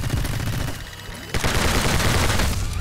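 Rapid turret gunfire in the action game My Friend Pedro, a dense, loud fusillade of shots that thickens into a continuous barrage partway through, with no talking.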